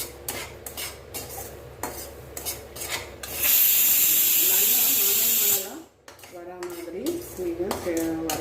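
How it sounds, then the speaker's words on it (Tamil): Rava semolina being roasted in a kadai: close metallic scraping and stirring strokes, with a loud rushing burst in the middle, then lighter scraping returns. "இப்போ பார்த்திங்கன்னா ஒரு கடாயில் நம்ம சேர்த்துக்கலாம் ரவையை"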